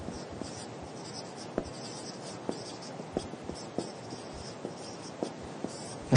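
Marker or chalk strokes on a board during a science lesson make a steady, close scratching and squeaking, punctuated by light taps as each stroke starts, with no speech.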